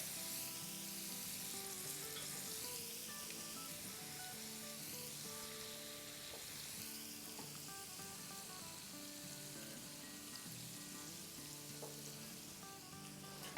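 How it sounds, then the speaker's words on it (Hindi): Onions and tomatoes sizzling on a hot tawa griddle for seekh kababs, a loud continuous crackling fry with faint stirring and scraping mixed in, and no voices. "चले इस पे अब हम थोड़ी सी प्याज़ें डाल देते हैं ताकि ग्रिल हो जाए अच्छी सी। गरम गरम तवे पे थोड़े से टमाटर डाल देंगे।"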